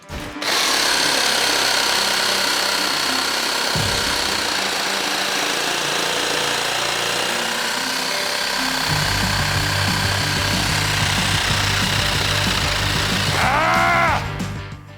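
A power saw cuts through material with a loud, continuous buzzing drone, its pitch shifting as the blade bites, with a rising whine of speed changes near the end.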